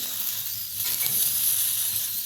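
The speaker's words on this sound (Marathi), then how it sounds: "आणि अगदी थोडासा ऑइल टाकूया भेंडी भाजायला।" Okra roasting in a little oil on a flat griddle, producing a soft, close hiss that swells slightly midway into a gentle sizzle, steady and unaccompanied by talk.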